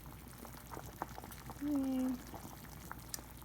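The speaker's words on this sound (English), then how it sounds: "I'm just gonna let it boil for like 5 minutes" Liquid bubbling in a pot on the stove, a low steady simmer under a brief word of speech, with a louder burst of bubbling swelling for about half a second midway.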